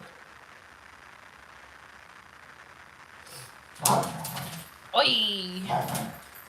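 Several dogs break into sudden barking and whimpering, two loud bursts after a few seconds of quiet room tone, with a person's voice mixed in.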